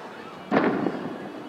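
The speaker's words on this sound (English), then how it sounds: "Got some fireworks going off in the background." A single firework bursting outdoors on the 4th of July in Durango, Colorado, a muffled, moderately distant boom with a short crackling tail that fades over about a second.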